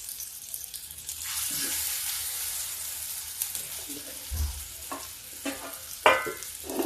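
Besan-coated bitter gourd frying in a pan, a soft continuous sizzle with intermittent scraping and clattering as pieces are moved, a few louder knocks near the end.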